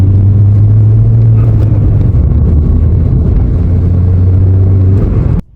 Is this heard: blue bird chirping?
no